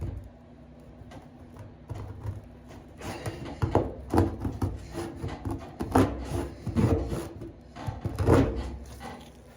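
A plastic scraper works old, twenty-year-old clearbra off the paint of a Mini Cooper, producing close, repeated rasping and rubbing strokes in irregular bursts that get stronger partway through.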